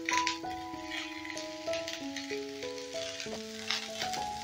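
Vegetables with peas, green chili and onion frying in a pan for roti chowmein, a soft continuous sizzle under background music with a melody of sustained notes.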